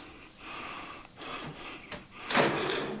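A drawer in a room being handled, with soft sliding and rubbing noises spread across a few seconds and a louder scraping burst near the end, fairly close and with no one talking.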